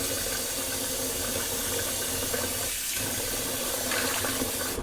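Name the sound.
water swished in a shaving bowl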